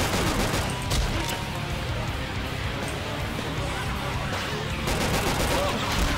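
Steady volleys of gunfire crackle through a Crash Bandicoot-themed Left 4 Dead 2 mod finale, continuous and dense across the moment, with players' voices faintly mixed beneath the shots.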